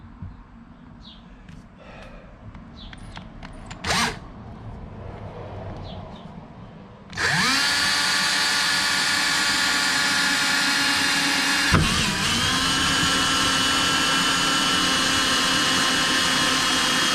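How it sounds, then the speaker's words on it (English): A power drill bores a hole through a Hobie kayak hull, starting with a loud, steady high-pitched whine after a few seconds of quiet handling noise and running continuously at close range, with one brief bump partway through. "But first we got to drill this hole."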